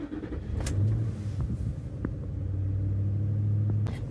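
A Ford F-150 pickup's V8 engine, running lean, rumbles at a steady low idle around 1,000 rpm, with a couple of brief higher clicks or knocks on top of the continuous drone.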